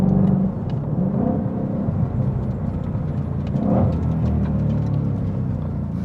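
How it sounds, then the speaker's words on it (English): A 2020 Shelby GT500 engine drones steadily from inside the car while downshifting, with a brief rise in revs partway through and the hum of the road beneath. "Do some downshifts here."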